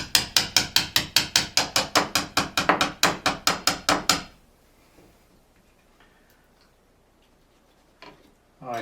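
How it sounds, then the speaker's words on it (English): Hammer tapping a putty knife beside bathroom tile: about seventeen quick, sharp metallic taps in steady rhythm, close and loud, then near silence with a faint knock near the end. "being very careful not to damage the tile around it with the hammer or the putty knife"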